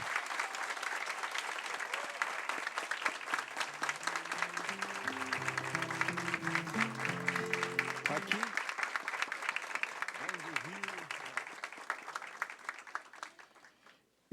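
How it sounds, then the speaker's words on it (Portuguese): Sustained applause fills a graduation ceremony hall, dense clapping from a large audience running steadily for about twelve seconds before tapering off, with brief musical tones and murmuring voices partly under it. "pedimos a todos os presentes uma grande salva de palmas aos nossos novos profissionais"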